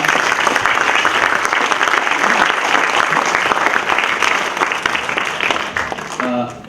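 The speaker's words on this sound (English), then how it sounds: "So perhaps we can give one more round of applause." A lecture audience at a talk on ecological design gives a sustained round of applause, dense steady clapping from a sizable crowd that holds strong and then begins to fade near the end.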